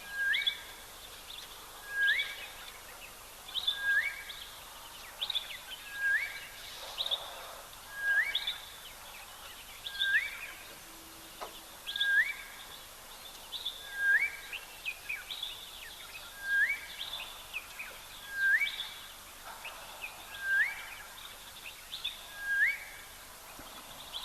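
A southern boubou calls repeatedly at a waterhole, giving clear paired whistled notes in a regular rhythm every couple of seconds, moderately near, over quiet ambient background.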